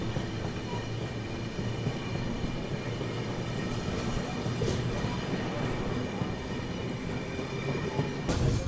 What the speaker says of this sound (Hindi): और अपनी ट्रेन बस अकोला जंक्शन पहुंच रही है।